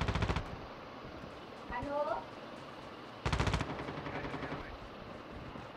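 Rapid automatic gunfire rings out in an online shooter game, two loud bursts at the start and again after a pause, with a short spoken word in between and lighter game noise underneath.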